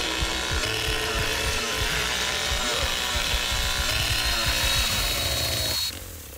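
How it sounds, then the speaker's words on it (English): Chainsaw from The Texas Chain Saw Massacre video game runs loud and steady with a continuous buzzing drone, cutting off abruptly near the end, while game sounds clatter beneath. "Chainsaw actually overheated for the first time."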